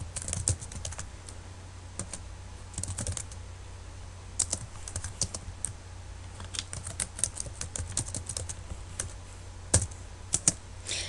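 Close, crisp keystrokes clatter on a computer keyboard as a file name is typed, coming in uneven bursts and quick runs with short pauses between them.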